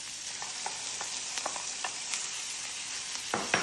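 Chicken with butter, ginger and garlic sizzles in a pan while being stirred, a constant crackling fry with a series of short scraping spoon strokes, close and fairly quiet, no voices.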